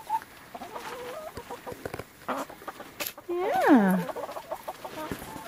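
Chickens out in the snow cluck and squawk close by, with one loud drawn-out call rising above scattered soft clucks while a person speaks briefly.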